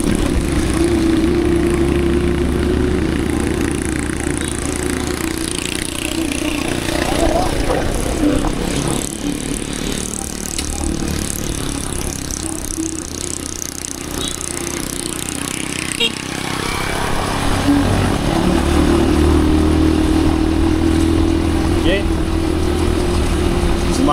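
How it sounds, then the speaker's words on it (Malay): Motorcycle ridden on a damp, dust-free off-road plantation track, engine droning steadily up close with wind rush, easing briefly mid-ride before picking up again. "Jadi aku boleh bawa motor rapat dengan cikgu Ben"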